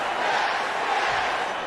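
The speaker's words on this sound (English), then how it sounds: "And this crowd here in Florida is loving it." Arena crowd in a WWE 2K wrestling video game, a dense roaring cheer during a Florida Raw event, steady and loud throughout with no clear breaks.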